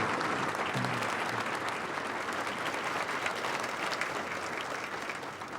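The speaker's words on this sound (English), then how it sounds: "you're all clapping for the cookies" An audience at an evening awards event claps steadily and loudly. The dense, sustained applause fills the room and fades only slightly toward the end.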